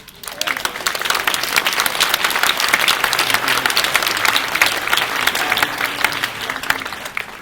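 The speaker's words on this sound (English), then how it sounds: "Just stop there and give him applause." A large festival audience at Terra Madre 2014 bursts into sustained applause, a thick, continuous wash of many hands clapping that stays loud and even throughout, with no voices standing out.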